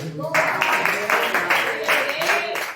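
Steady applause from a church congregation during a Pentecostal worship service, a dense, moderately loud wash of clapping that holds evenly for several seconds.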